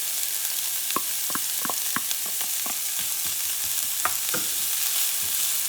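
Garlic frying in a pan gives a steady close sizzle, broken by repeated scraping and tapping strokes of a utensil as it is stirred, with no talking.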